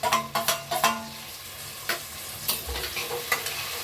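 Coriander leaves sautéed with ghee in a rice pan, giving a light sizzle broken by several sharp stirring scrapes near the start and a few more later, close and moderately loud with no talking.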